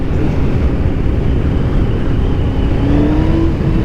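Kawasaki ZX14R motorcycle engine roaring loudly and steadily at speed, with a rising whine near the end as the rear wheel spins.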